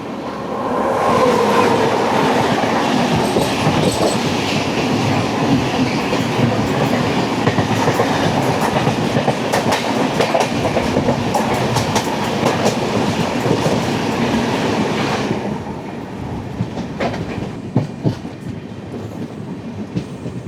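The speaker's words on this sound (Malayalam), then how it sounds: "ഓപ്പോസിറ്റ് സൈഡിൽ നിന്ന് നമ്മുടെ കണ്ണൂർ തിരുവനന്തപുരം ജനശതാബ്ദി വരുന്നുണ്ട്." Kannur–Thiruvananthapuram Jan Shatabdi express passing close by on the opposite track near Aluva, a loud steady rush and clatter of wheels that cuts off sharply after about fifteen seconds, leaving a quieter rumble.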